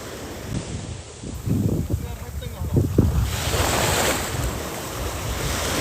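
Strong evening sea waves roll onto Pantai Cenering beach in a steady, surging wash of surf. Wind buffets the microphone, and the rush of water swells louder partway through.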